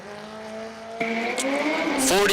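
A drag-racing motorcycle runs at a race track with a tonal engine whine that jumps sharply in pitch and loudness partway through, then climbs toward a near howl. An announcer talks faintly underneath.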